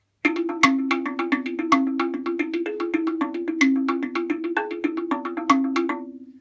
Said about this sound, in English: So I thought I could emphasize that by recording a slit drum.